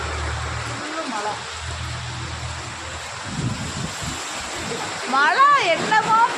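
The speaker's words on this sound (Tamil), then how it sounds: "தண்ணி சரியான மழை." Heavy rain pours and water rushes steadily in Saudi Arabia, a broad hissing wash with occasional splashes, while a person talks over it nearby.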